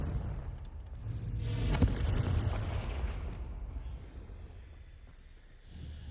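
A Confringo fire spell blasts in Hogwarts Legacy, a loud booming burst that swells around the second mark, then rumbles and fades into a low lingering roar. No one speaks.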